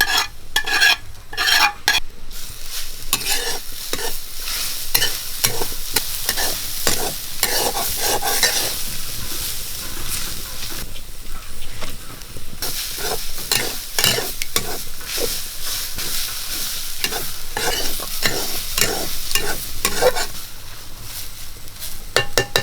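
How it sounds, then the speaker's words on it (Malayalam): Dry roasting of coconut, chilli, coriander, cumin and fenugreek in a pan with constant stirring and scraping, a soft sizzle beneath repeated utensil strokes, close and steady throughout. "തേങ്ങയെ മുളക് മല്ലി ജീരകം ഉലുവ ഇതെല്ലാം കൂട്ട് വറുത്തെടുക്കുക"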